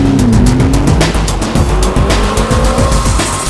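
McLaren 650S Spider driven hard around Llandow circuit, its engine roaring loud and close through rising revs and rapid gearshift cuts, with tire noise underneath.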